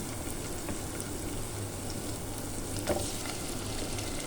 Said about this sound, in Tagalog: Halo-haluin lang natin.